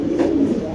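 Lahori pigeons cooing close by, a steady throaty low coo with a soft rolling pulse that runs continuously with no pause.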